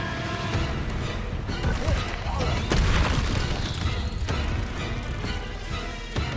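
A Confringo fire-blast spell in Hogwarts Legacy bursts with heavy booming impacts and crashing debris amid ongoing combat noise, with a loud peak near the middle.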